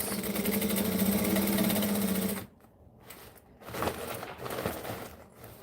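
A sewing machine runs fast and steady for about two seconds while stitching a bag's exterior to its lining, then stops; quieter handling sounds and brief whirs follow.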